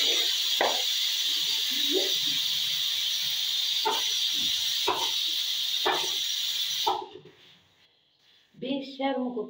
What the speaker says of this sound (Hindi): बेशर्म कुकर है, 4 थप्पड़ लगने के बाद ये चुप हुआ।